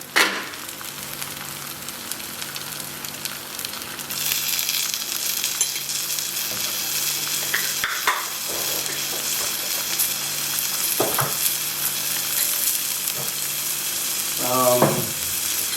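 Ginger frying in a pan for Padang-style chicken turmeric-coconut curry, a bright steady sizzle with occasional clinks and scrapes of a utensil against the pan.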